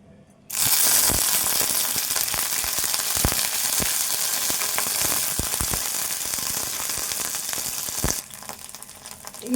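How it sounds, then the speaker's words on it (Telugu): Red chillies hit hot oil with a sudden loud sizzle that keeps up a steady, close crackle with occasional pops before it dies down at the end. "కొంచెం ఆయిల్ వేసుకుందాము ఇప్పుడు మిరపకాయలు వేపుకుందాము"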